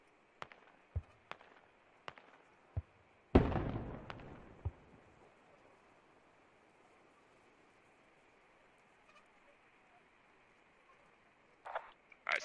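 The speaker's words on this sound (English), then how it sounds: "the mortars are hitting" Mortar shells from the video game Squad burst in a scattered run of sharp, booming detonations, with one heavy near blast in the middle and a fainter cluster of impacts near the end.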